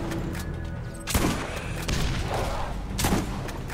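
Grenade blasts and bursts of gunfire in the video game Borderlands, a dense, loud mix of booms and shots with several sharp explosive hits standing out over continuous battle noise.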